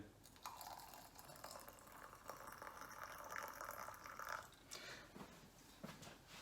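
Quiet, steady trickle of boiling water poured into a cup of loose leaf tea, with a few faint clinks and splashes near the end.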